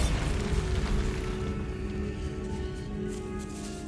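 A Bombarda spell blast in Hogwarts Legacy, with a loud booming explosion at the start that rumbles and slowly fades away.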